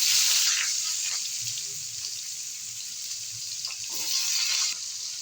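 Onion and cumin hit hot oil left from frying bata fish, giving a steady bright sizzle that swells and eases briefly, close up with no talk.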